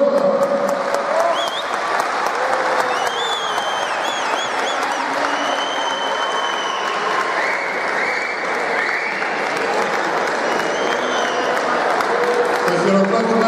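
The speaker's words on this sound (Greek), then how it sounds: "Ένα χειροκρότημα." An audience at an award presentation during a New Year pie-cutting celebration claps steadily for several seconds in a dense, sustained round of applause, with voices faintly mixed in.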